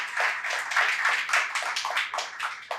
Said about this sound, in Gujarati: ખૂબ તાળીથી એમનું સન્માન કરીએ.